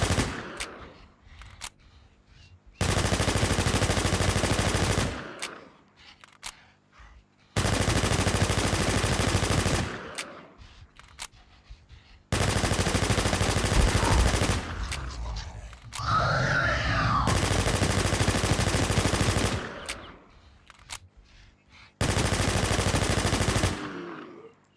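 MP7 submachine gun fire in the video game Infestation, several long sustained automatic bursts of several seconds each, loud and close, separated by brief quiet gaps.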